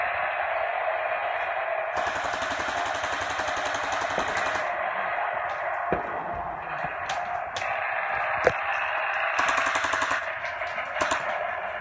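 Airsoft guns firing during a warm-up game, bursts of fast rattling shots over a steady background hum, some sustained, some short, with a sharp snap partway through.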